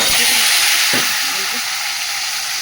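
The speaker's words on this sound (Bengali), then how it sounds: "ডিমটা নুন হলুদ দিয়ে ভেজে নিই।" Eggs frying in a pan with salt and turmeric, a steady close hissing sizzle with a few brief knocks of the utensil against the pan.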